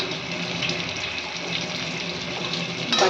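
Water poured into ground spice paste in a cooking pan for aloo dum, a steady hiss of flowing, bubbling liquid held at even loudness throughout, with a brief louder splash at the very end.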